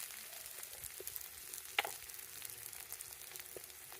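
Onion, ginger, garlic and spices fry in a pan with a soft, continuous sizzle, fairly quiet, broken by an occasional faint clink.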